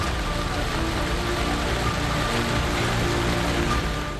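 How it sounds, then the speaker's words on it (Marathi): Heavy downpour over a dam catchment area in Ratnagiri district during monsoon flooding, a dense steady hiss of rain with no pauses and no talk. "रत्नागिरी जिल्ह्यातल्या धरण क्षेत्रातही धुवाधार पाऊस बरसलाय"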